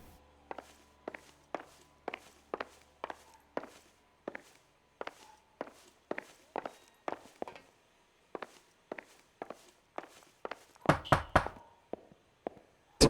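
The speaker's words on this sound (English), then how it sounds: "Why is he knocking on the door?" Knocking on a door in the video game L.A. Noire: a long run of evenly spaced sharp raps in groups, fairly close, with a louder, denser burst of knocks near the end.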